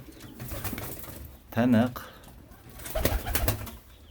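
Pigeons coo close by in short rolling bursts, one loud phrase and then a second, while someone talks over them. A soft flutter of wings is mixed in.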